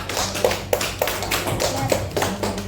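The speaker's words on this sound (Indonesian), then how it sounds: "Silakan tepuk tangan untuk orang yang lain dong." Scattered, sparse hand claps from a classroom audience after a group presentation, a handful of separate sharp claps spaced unevenly over a few seconds against low room noise.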